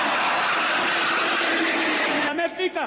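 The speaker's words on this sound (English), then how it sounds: "the Northrop F-5 Tiger II fighter jet roared over the packed stadium" A Northrop F-5 Tiger II fighter jet passes over a packed stadium during a Jamhuri Day celebration, a loud, steady broadband roar that holds for over two seconds and then breaks off abruptly into fainter, choppier noise.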